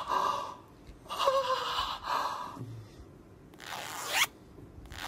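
A repaired clothing zipper being pulled in several quick, raspy strokes, close and fairly loud, separated by short pauses and breathy sounds.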